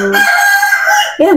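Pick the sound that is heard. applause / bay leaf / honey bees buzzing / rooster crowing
rooster crowing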